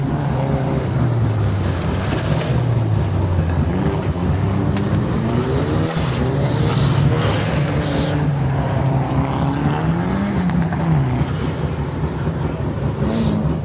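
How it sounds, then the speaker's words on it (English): A Datsun 1600 race car climbs a lakeside hillclimb course, its mid-pitched engine droning steadily and fairly loud throughout, with a few shifts in pitch as it works through the gears and no one talking. "Reece Molden, I think, is coming up behind Dave with the Datsun 1600."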